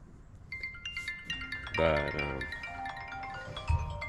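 A phone rings for an incoming call, with a short two-tone chime pattern that repeats, heard fairly quietly in a garage while work happens on a Powerstroke 6.0 truck.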